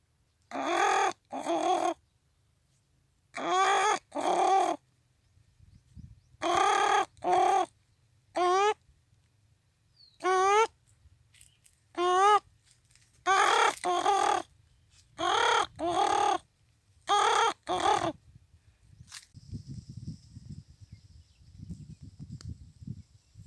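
A man imitates the calls of the ruddy shelduck (surkhab), giving a series of loud, nasal honking caws in short paired bursts separated by silences, followed by faint background noise and a few thin whistles near the end.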